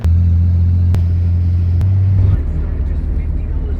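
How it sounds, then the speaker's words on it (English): A vehicle towing a trailer backs around a narrow corner to a driveway, its engine a loud, steady low rumble up close, with a couple of sharp clunks, then the drone eases slightly. "I'm gonna back up down this corner and pull out the other driveway"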